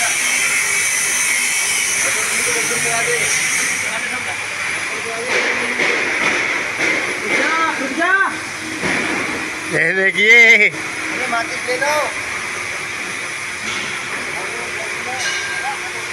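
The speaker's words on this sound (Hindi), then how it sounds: "अच्छा पटाखे जलाते हैं भैया," Diwali firecrackers are lit and burn with a sustained loud hiss and spray up close, with whistling, rising squeals near the middle and someone speaking briefly over the noise.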